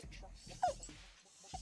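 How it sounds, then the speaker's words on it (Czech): A dog in a fairy-tale video game gives a short whimpering yelp over game background sounds, with a brief call again near the end. "To je pes, aha."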